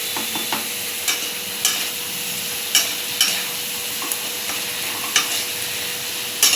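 Dried fish frying slowly in a pan, a constant bright sizzle punctuated by regular spatula scrapes and taps against the pan, close and alone.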